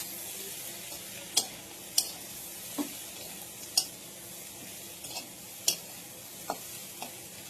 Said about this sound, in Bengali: আমি এবার লতিটা দিয়ে দিলাম, দিয়ে একটু নাড়া দেবো।